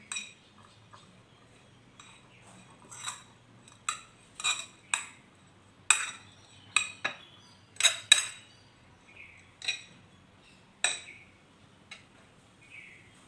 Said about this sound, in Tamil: நல்லா கையில் மிக்ஸ் பண்ணிவிட்டேன்.